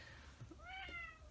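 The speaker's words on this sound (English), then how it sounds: "Pardon my kitty." A house cat gives a single rising-and-falling meow, near and fairly clear, over a low background hum, with no talking.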